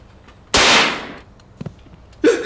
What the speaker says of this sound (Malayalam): ഒരു പയ്യൻ വെറുതെ പേടിപ്പിക്കാൻ അപ്പൂപ്പന്റെ പുറയിൽ പടക്കം പൊട്ടിക്കുന്നു.